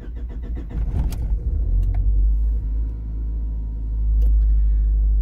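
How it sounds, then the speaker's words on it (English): A cold 1996 Honda Accord engine cranks in a quick burst, catches, and settles into a loud, rough low idle with a deep rumble that surges again near the end. "And it does start up."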